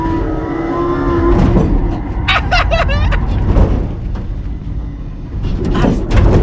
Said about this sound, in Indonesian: Bener-bener rasanya kayak mobil itu nabrak.